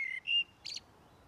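A male blackbird sings in a garden: two clear whistled phrases followed by a brief buzzy chirp, fairly close against a quiet background.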